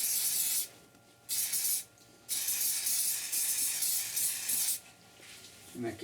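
A wooden bowl gets sprayed to help it dry, four short close hissing bursts from a spray bottle separated by brief pauses.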